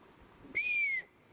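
A single clear, high whistle, sustained for about half a second with a slight rise and fall, in an otherwise quiet outdoor setting.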